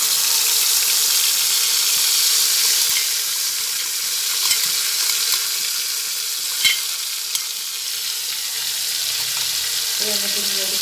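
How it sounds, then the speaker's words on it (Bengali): A ginger, tomato and green chili paste frying in hot oil gives a loud, continuous bright sizzle that eases slightly over time, with occasional soft clicks and a brief clatter near the end. "যে পেস্টটা আদা টমেটো আর কাঁচা লঙ্কা দিয়ে রেডি করে রেখেছিলাম, সেটা তেলের মধ্যে ঢেলে দিলাম।"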